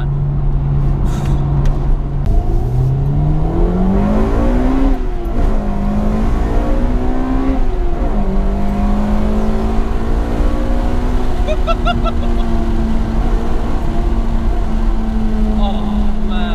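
A Honda Integra DC2 Type R, Phoenix Yellow, with its engine note rising and falling steadily as it is driven hard, loud and continuous from inside the car, with someone talking over it at times.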